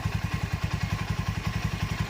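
A TVS Apache RTR 200 4V motorcycle engine idles steadily after starting, giving a fast, even low thumping pulse with a mechanical clatter layered on top. It sits close and continuous, with no voices.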